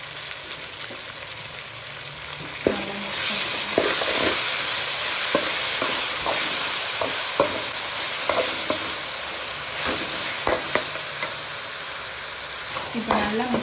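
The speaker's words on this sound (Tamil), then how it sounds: "இந்த தக்காளி நல்லா குழஞ்சி வர வரைக்கும் நல்லா மிக்ஸ் பண்ணி வதக்க விட்டுக்கலாம்" Tomatoes sizzle and get stirred in a pan for a fish curry, a continuous frying hiss with scattered scraping clicks from the spoon, close and moderately loud.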